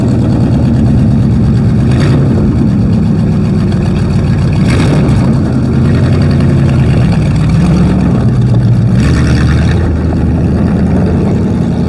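Hotrod engine running loud and close, a steady rough idle with three brief revs rising and falling at spaced intervals, no voices.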